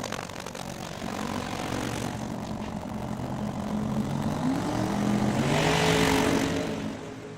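A twin-turbo drag racing Mustang at a national finals event revs loud and steady as its turbos spool up, the engine tone climbing and strengthening over about seven seconds.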